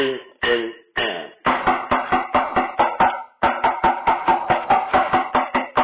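Marching quad tenor drums are played alone in a crisp, close exercise of quick rhythmic strokes in short bursts, with a brief pause before the pattern continues.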